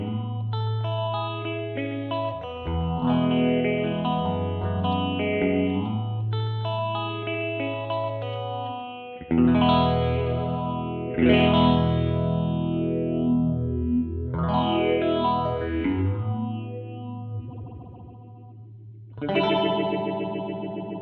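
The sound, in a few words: guitar phaser pedal, resonant treble setting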